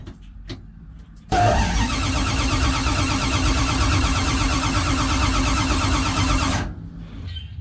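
A Dodge Charger engine cranks and catches at once, running loud and steady for about five seconds before cutting off, with faint clicks before and after.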